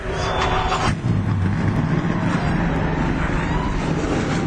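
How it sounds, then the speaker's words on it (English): Race car engines start and roar together at a stock car racing event, a dense, steady wall of loud engine noise with wind buffeting the microphone. "Drivers, start your engines."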